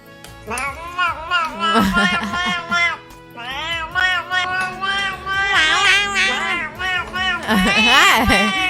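Noisy cats meowing loudly and repeatedly in a played-back recording, with wavering cries that sound almost like a baby crying, continuing almost without pause and tangled with voices talking over them.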